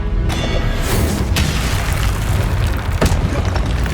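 A Confringo explosion spell in Hogwarts Legacy booms loudly, with dense rumbling blasts and a couple of sharp bursts of impact over a few seconds.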